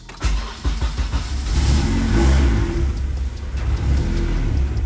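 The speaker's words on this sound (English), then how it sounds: "We'll go ahead and crank it up." A Honda B-series GSR engine in an EK Civic build, ECU connected, cranks and catches, then revs up and settles into a steady, rumbling idle nearby, with no idle air control valve.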